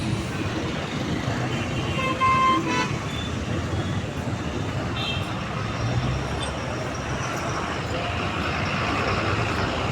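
Busy road traffic near the Pattanagere metro stop in Bengaluru rumbles continuously, with a couple of short car horn toots cutting through, one fairly close.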